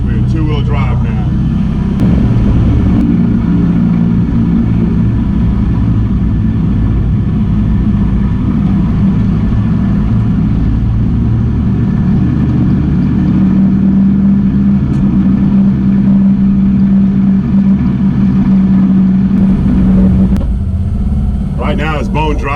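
Can-Am off-road vehicle driving in two-wheel drive on bone-dry ground, a loud continuous low engine rumble and rattle close by, steady throughout with a brief pitch rise midway, and a person talking over it.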